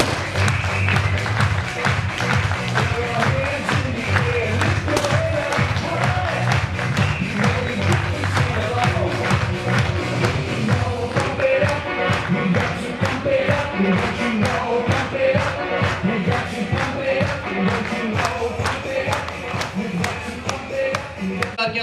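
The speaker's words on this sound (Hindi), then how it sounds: "एक जोरदार तालियों से आप स्वागत करें मिस्टर महावीर सिंह जंतुला जी का" A seminar audience gives sustained, loud applause to welcome a speaker at the Wellscience Seminar 2016. Crisp individual claps merge into a dense, even roar for about twenty seconds.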